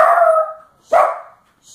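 A dog barks twice indoors, two loud close yelping barks separated by a short pause, with a faint third sound starting at the end.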